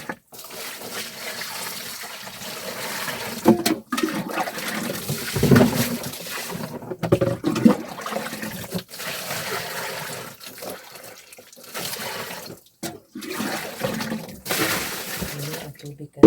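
Water flows steadily outdoors, a continuous splashing rush that rises and dips in intensity, with voices talking intermittently over it.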